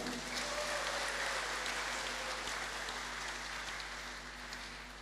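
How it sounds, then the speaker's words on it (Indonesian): Audience applause at a workplace safety and health commitment event, a steady crowd clapping that holds strong throughout and eases slightly toward the end. "Tepuk tangan buat Anda semuanya."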